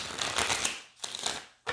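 A deck of tarot cards being shuffled up close, with two quick riffling bursts followed by a short snap at the end.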